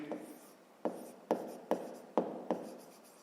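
A pen scratches across paper while a fifth-grade math exercise is worked out. Short, distinct strokes come in an irregular rhythm, close and quiet, with no voices.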